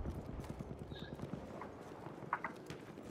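A horse in the video game Battlefield 1 gallops by, with rapid clip-clop hoofbeats that are strongest early and fade, a brief whinny, and faint gunfire in the background.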